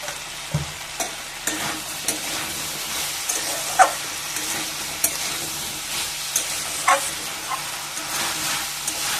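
Taro curry, sweetened with a little sugar, sizzles in a pan under a steady low frying hiss, punctuated by regular clinks and scrapes of a spoon stirring.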